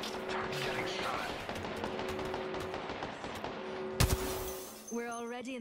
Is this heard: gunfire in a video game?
yes